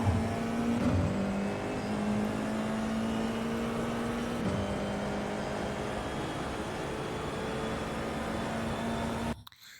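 An F4 race car at full throttle in iRacing on the Long Beach street circuit gives a sustained engine drone that stays steady and fairly close, then stops abruptly near the end, with no talking.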